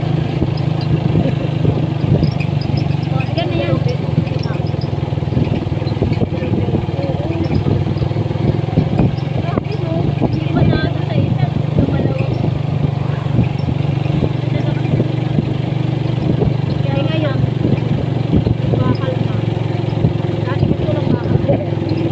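A motorcycle carrying a passenger drones steadily on a road ride, its engine running continuously at moderate loudness while people talk over it throughout.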